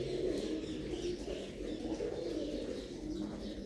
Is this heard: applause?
no